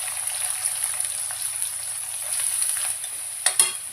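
Chopped onions frying with curry leaves in oil, a steady close crackling sizzle that holds evenly, then a couple of sharper stirring scrapes near the end, no speech.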